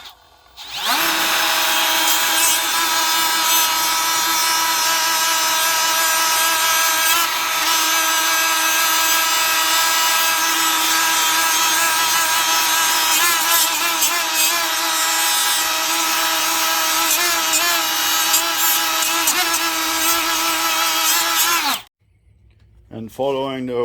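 A Ryobi PSBDG01 die grinder fitted with a pad runs at a steady, loud, high-pitched whine for about twenty seconds, then cuts off abruptly.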